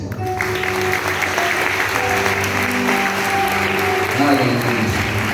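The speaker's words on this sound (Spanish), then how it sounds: "Dale un aplauso al Señor." A church congregation applauding during a worship service at a church anniversary celebration, a loud sustained wash of clapping mixed with voices and music-like tones throughout.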